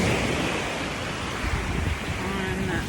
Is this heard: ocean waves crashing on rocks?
yes